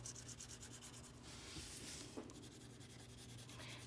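Pencil shading on paper is rubbed and blended for an animal drawing, a quiet continuous scratchy swishing in repeated back-and-forth strokes with brief pauses, close by and with no talking.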